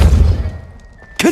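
A Depulso spell cast in the video game Hogwarts Legacy: a dull low thud opens, then the scene settles into a faint hum before a second sharp burst lands near the end.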